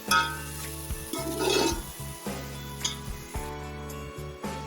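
Chicken with garlic and onion stirred and fried in a pot for pulao, sizzling steadily with repeated scraping stirs and occasional metallic clinks, close and continuous.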